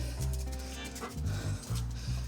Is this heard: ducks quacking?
no